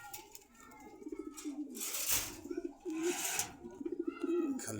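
Racing pigeons kept in a loft cooing, with a male calling repeatedly in rhythmic bursts of low, throaty coos, close and fairly faint, interspersed with softer rustles and other bird sounds.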